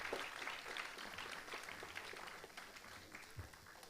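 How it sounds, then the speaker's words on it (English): Applause from the audience at a TEDx youth event follows a speech, with steady, moderately loud clapping filling the whole stretch and no one talking over it. "Can we please have another round of applause for Rajett Shah?"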